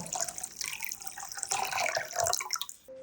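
Water splashes and trickles into a bowl of semolina and flattened rice, a short bubbling pour that ends abruptly.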